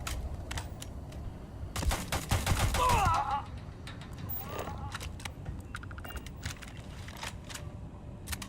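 Turrets opening fire in Starfield, a dense burst of rapid gunfire clustered in the middle, surrounded by scattered lighter shots and clatter over a low ambient bed.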